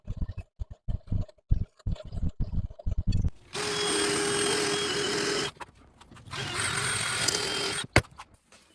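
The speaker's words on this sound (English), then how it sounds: "I just used a polishing wheel with some rouge or rubbing compound, and then a buffing attachment" Power polishing wheel loaded with rouge or rubbing compound, then a buffing attachment, run against an outboard rail mount part during a Contessa 26 sailboat refit: two steady whirring passes of a few seconds each, close and loud, after a run of short tapping bursts.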